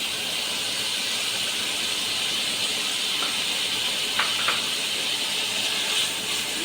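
Cumin paste and spices fry in a pan for ash gourd greens, giving a steady, close hissing sizzle throughout, with a couple of brief scraping clicks from stirring and no talking.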